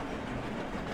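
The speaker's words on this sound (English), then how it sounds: "we now have electric trains" An electric train runs along the rails in a video game, a steady rolling rumble with faint clickety-clack, heard alone at a moderate level.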